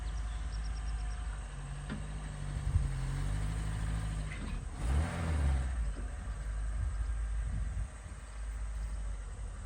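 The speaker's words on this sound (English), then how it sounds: "I'm putting a car on my trailer." A 1988 Ford Festiva, about 1,800 pounds, drives up onto a converted boat trailer, its small engine revving and straining steadily with a low rumble throughout, rising briefly near the middle.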